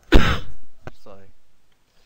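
A single harsh, close cough bursts out, followed by a short throat-clearing rasp and a trailing voiced grunt.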